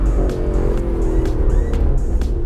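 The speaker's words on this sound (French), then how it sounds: "Là, on arrive à plus de 100 km/h hein, dans les courbes." An Audi self-driving car runs fast on a race track, taking curves at over 100 km/h, its engine and road noise a loud, steady roar with a few higher whooshing sweeps.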